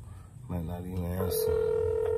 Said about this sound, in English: I'm gonna call them on my phone.